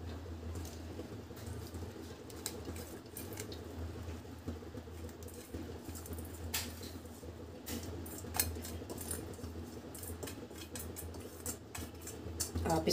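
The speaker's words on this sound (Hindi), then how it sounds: "फिर से हम इसको चावल को इस पर डालेंगे।" Rice spooned and layered into a pot of vegetable biryani, with clinking utensil taps and scrapes against the metal pot over a low kitchen hum, close and moderately quiet, no talking.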